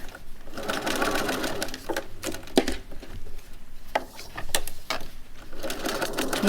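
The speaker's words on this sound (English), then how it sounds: "You can stretch it a little bit while you're sewing, but try not to do that on the flat portion" A sewing machine zigzag-stitches around a fabric edge for a contoured head cover, a rapid continuous mechanical chatter with brief pauses and restarts, close and steady, faint voice in the background.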